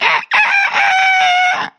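A rooster crows once, loud and close, in one sustained call of about two seconds with a short break near the start. No one speaks.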